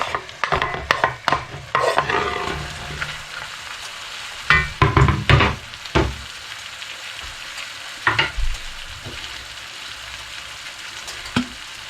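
Wild boar stir-fry with peppers and garlic in a hot pan, a continuous sizzle broken by repeated scraping stirs in irregular bursts, fairly close and loud.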